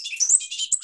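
Bobolink song, a rapid, bubbling tumble of high, metallic, warbled notes packed densely together, loud and close with no talking.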